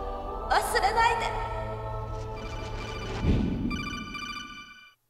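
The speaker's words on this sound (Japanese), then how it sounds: "電話。" A telephone rings in the PS1 video game Metal Gear Solid, a repeated electronic ring tone in short bursts following game dialogue, ending in silence.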